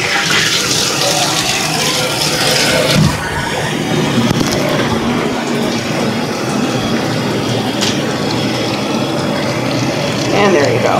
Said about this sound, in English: It pours into there now, goes straight into the water inlet.